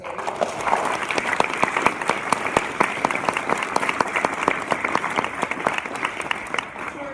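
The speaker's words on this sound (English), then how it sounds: "Let's just give them a round of applause for their leadership." A round of applause for regional leaders at a Hall of Fame induction, dense, even clapping from an audience that carries steadily throughout.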